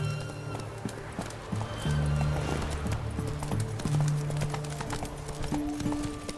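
Hooves of Roach, a horse in the video game The Witcher 3, clip-clopping in a steady trot close by, with game ambience around them.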